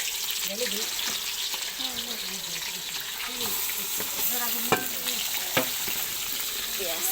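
Onions sizzle and fry steadily in a pan with whole spices (cardamom, bay leaf, cinnamon and cloves), with continuous close frying hiss and occasional stirring clinks.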